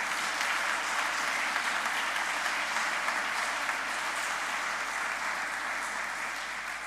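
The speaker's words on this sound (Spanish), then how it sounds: "Pues ahora le damos un fuerte aplauso porque son parte del ejército de la Virgen." Sustained applause from a large congregation fills a church during a Catholic Mass, even and steady throughout with no talking.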